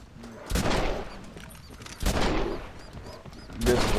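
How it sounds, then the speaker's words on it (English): Heavy buffalo rifle shots in the Red Dead Redemption video game, three loud booming blasts spaced about a second and a half apart, each with a long rumbling tail. "This is a buffalo rifle."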